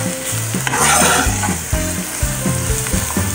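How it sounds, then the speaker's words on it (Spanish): Onion and charales, small fish, frying in a pan for a Mexican potato dish with green chile, a loud steady sizzle with repeated scraping stir strokes, close and alone. "Vamos a darle una pasadita que esté un poco frita la cebolla con los charales."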